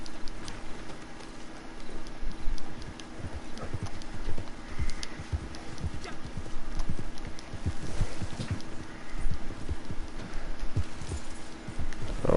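Horse hooves clip-clop at a steady walking rhythm in Red Dead Redemption 2, close and continuous throughout, with light ambient game sound around them and no talking.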